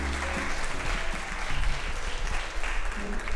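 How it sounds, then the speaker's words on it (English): Wedding guests at a vineyard reception applauding the couple, a sustained round of crowd clapping over low music and hall ambience, with a faint voice underneath. "Let's have a big round of applause for them."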